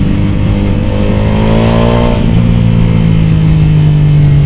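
A Ducati Pikes Peak motorcycle fitted with a full Akrapovic exhaust and headers revs loudly at close range, its engine note climbing and then settling into a steady, throaty idle-to-mid drone, with no talk.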